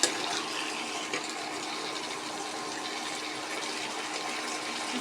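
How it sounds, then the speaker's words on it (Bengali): A little water splashes into a hot pan of frying spices, giving a continuous hissing, rushing wash that holds steady for several seconds. "দিয়ে দিচ্ছি সামান্য পানি।"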